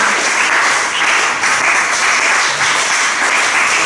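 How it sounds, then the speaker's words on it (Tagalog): A church congregation breaks into steady, loud applause during a sermon, the dense clapping holding evenly for about four seconds with no gaps. "Palakpak sa Panginoon."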